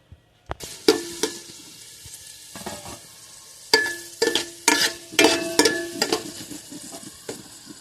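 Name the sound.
raisins frying in a pan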